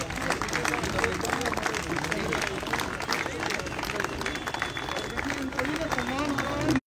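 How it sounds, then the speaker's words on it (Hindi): An audience claps steadily throughout at the closing ceremony of a cleanup campaign in Chhatarpur. The dense, continuous applause mixes with crowd babble and is cut off abruptly at the end. "जो नीचे विराजमान है वो भी तालियां बजाएं और थोड़ा तालियां बजा लें"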